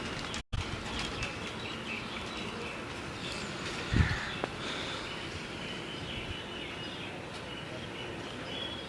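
Pigeons at a rural loft in Gujrat handled and caught, with a brief burst of flapping wings around the middle over steady outdoor background noise and faint bird calls.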